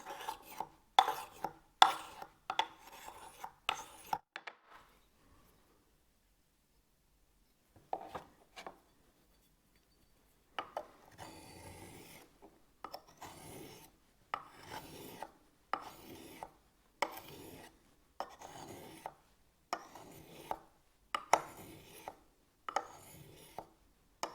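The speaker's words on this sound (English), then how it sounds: "you want to remove that burr with the flat of the stone" A sharpening stone scrapes the flat of a pruning tool blade to remove the burr, in bursts of short rhythmic rasping strokes, a quiet pause, then another steady run of strokes, close and dry with no talk.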